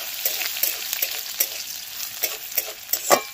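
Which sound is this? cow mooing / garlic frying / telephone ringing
garlic frying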